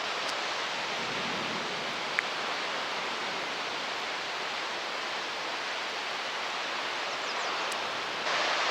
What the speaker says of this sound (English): You may hear a roaring sound of water